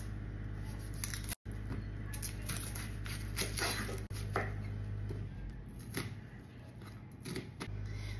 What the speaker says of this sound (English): Now we're gonna chop up 1 onion.